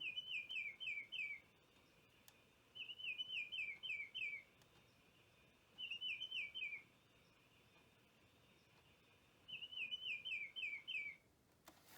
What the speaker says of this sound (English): So now we'll do the Baltimore Oriole.